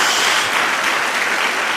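A church congregation claps together in a steady, full burst of applause that fills the short moment without a break.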